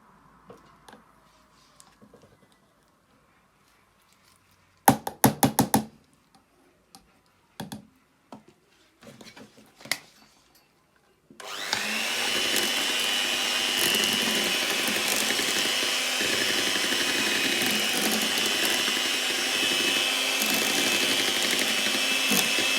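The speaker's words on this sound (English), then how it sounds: "I'm going to mix it again with my hand mixer" A handheld electric hand mixer whirs steadily and loudly through a homemade organic whitening base cream, starting abruptly after a few scattered clicks and taps and running continuously to the end.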